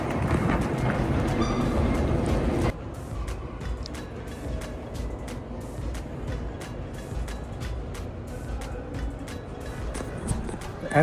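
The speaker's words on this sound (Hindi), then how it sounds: "ऐसा है यहाँ का मेट्रो" Metro train running at night in Canada, a steady broadband rumble with rhythmic wheel clicks over rail joints continuing throughout, louder at the start then settling into a constant ride.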